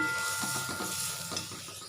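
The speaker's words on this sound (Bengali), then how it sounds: "এদিকে দেখো নিম বেগুন দিনে বেগুনটা ভাজছি" Eggplant sizzles in a hot pan with neem leaves, a steady close-up hiss of frying with soft stirring scrapes underneath.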